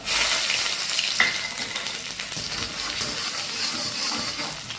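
Finely chopped garlic and ginger tempering in hot oil give a loud, steady sizzle and crackle that runs the whole time, close up, with no voices.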